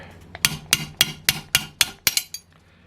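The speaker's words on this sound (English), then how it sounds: "let me just tap this bearing off in the standard or old means, where I just kind of do something like this" A hammer taps a bearing off an OS FT-240 twin-cylinder model engine, eight sharp metallic knocks in a fairly even rhythm, close and loud, then quiet.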